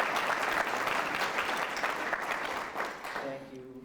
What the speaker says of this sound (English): So, just a round of applause for Dan.